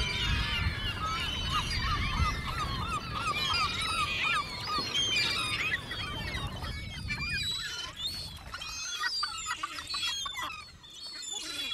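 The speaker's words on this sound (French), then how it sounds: "et au cri des goélands" Gulls crying on the Quiberon peninsula in Brittany, a continuous chorus of many raucous honking calls over steady wind or surf noise, loud at first and thinning toward the end.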